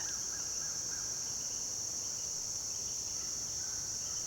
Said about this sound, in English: I'm still hearing some crickets from the night.